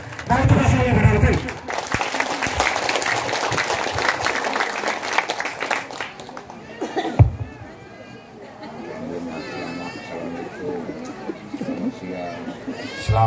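Audience applause at a regional election campaign event in Malaka, Indonesia: a loud burst of crowd clapping opens and fades into murmuring chatter and a speaker's voice through a PA.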